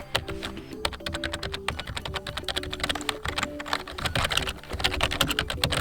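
Fingers type on the keys of a Corsair K55 RGB Pro XT keyboard in a fast, continuous clatter of clicks and taps, close and fairly loud, with no speech.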